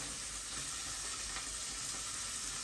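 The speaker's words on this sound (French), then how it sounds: "Je lave mon oignon dans l'huile chaude." An onion cooking in hot oil gives off a faint, steady hiss of sizzling that holds even with no breaks. The sound is distant and low in level, and no one speaks.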